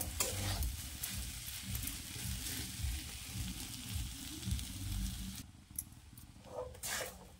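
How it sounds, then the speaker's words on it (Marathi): Cooked rice is stirred into tomato rice in a pan, with soft, repeated scraping and mixing sounds over a low sizzle that quiets toward the end. "आता यामध्ये घालायचा आहे हा शिजवलेला राईस आणि हा आहे ना मिक्स करत करत आपल्याला घालून द्यायचा आहे"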